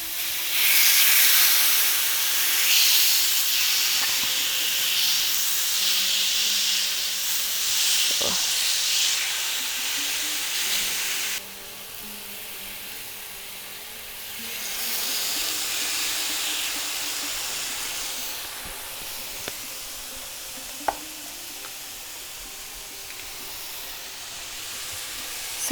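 Carne asada steak sizzling on a hot grill, a loud, continuous bright hiss that drops in level partway through and then swells again, with faint clicks and a quiet voice in the background.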